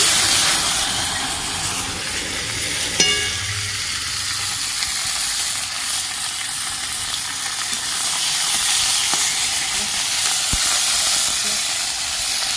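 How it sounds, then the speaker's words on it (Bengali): Black cumin seeds and chopped tomatoes sizzle loudly in hot oil for Barishal-style tel koi, a steady broadband hiss throughout with a brief spatter burst near the start and a few small clicks from the pan. "তেলের মধ্যে আমি কালো জিরে ফোড়ন দিয়ে দিচ্ছি কেটে রাখা টমেটো দিয়ে দিচ্ছি"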